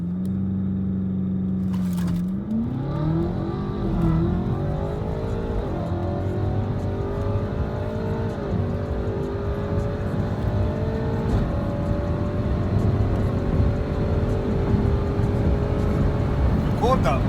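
A BMW X5M and a McLaren 720S race down a runway, with engines droning loudly and rising in pitch through several gear shifts over a steady roar of wind and road noise.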